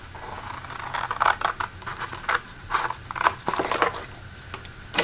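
Scissors snip through a paper file folder in a rapid series of crisp close cuts with short pauses between bursts, and no voices.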